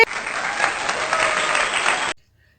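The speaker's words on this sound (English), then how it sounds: "Clap, clap, clap your hands." Children clap their hands together in a steady burst of clapping that fills about two seconds, then cuts off abruptly into silence.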